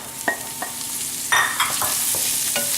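Diced zucchini and onion get stirred in a hot pan, a steady sizzle with several distinct scraping strokes of the spoon, close and clear with no talking.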